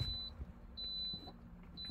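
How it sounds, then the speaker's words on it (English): A Lay-Z-Spa hot tub control unit in fault mode repeats a thin high electronic beep about every half second, steady and moderately clear over low background rumble. "as you can hear, it is still beeping away."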